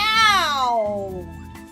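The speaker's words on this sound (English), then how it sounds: "Meow." A single cat meow, loud and close, with a drawn-out cry that falls in pitch and fades over under two seconds.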